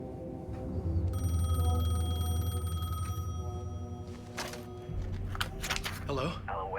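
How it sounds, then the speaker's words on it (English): A telephone bell rings in the Alan Wake 2 video game, a sustained trilling ring that sits over a low droning ambience, followed by brief rustling and faint movement. "The phone was ringing."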